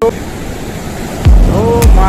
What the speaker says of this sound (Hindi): आप इन कलकल उठती लहरों की आवाज़ को भी सुन सकते हैं पूरी तरह से।